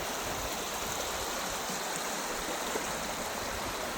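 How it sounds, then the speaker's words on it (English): A small river stream beside the Appalachian Trail near Stratton Mountain flows in a steady, even rush of water, constant and fairly close, with no voices over it. "There's a little river right here."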